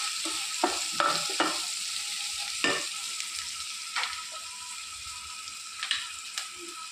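Onions fry with salt in a pan, giving a steady sizzle broken by several clattering stirs and scrapes throughout.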